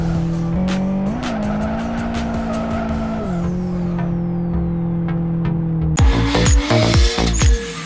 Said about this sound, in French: je relâche l'embrayage et la voiture va se mettre à patiner